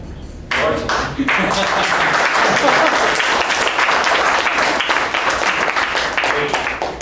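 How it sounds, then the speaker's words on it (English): At a club meeting's evaluation session, a room of people breaks into a round of applause, starting abruptly and holding as dense, steady clapping while voices talk faintly underneath. "give a round of applause to the master of the ceremony"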